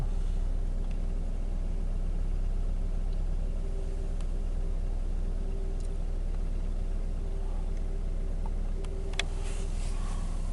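A Nissan Primera car engine idles steadily at about 950 rpm, a low, even rumble heard close up and alone for the whole stretch, with no voices.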